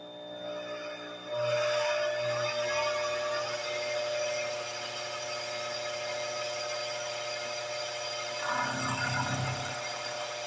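A Unimat DB200 lathe fitted with a vertical milling attachment runs with a steady mechanical hum, and cutting noise swells in brief bursts near the start and again near the end. No one speaks.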